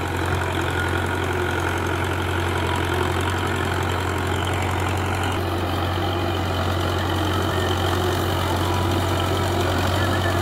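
A tractor engine idles steadily in a farm field, a low, continuous rumbling drone with a slight knocking pulse and vibration, close and constant throughout with no speech.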